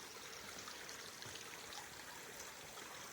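Stream flowing beneath a path in an Australian rainforest on the Maitland Rainforest walk, a soft, continuous trickle and babble of water, quiet and steady with no voices.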